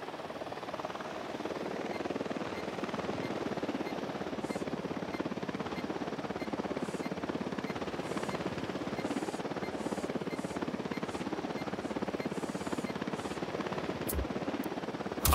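Helicopter rotor thrum from the Ghost Recon Wildlands video game, a steady broad drone holding at even loudness throughout, with a few sharp bursts near the end.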